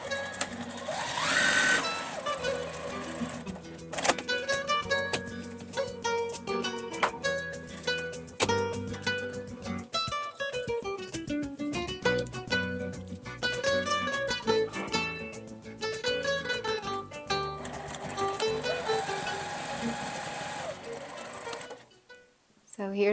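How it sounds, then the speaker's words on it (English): A sewing machine stitching fabric storage bins, running in fast rapid bursts with brief stops, close by, with a voice talking over it at times. "The sewing's the fastest."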